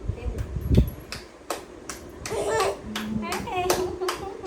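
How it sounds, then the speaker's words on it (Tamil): A small child clapping hands at night indoors, a string of sharp, uneven claps close by, mixed with a voice and an adult coaxing in Tamil. "கைதட்டு கைதட்டு."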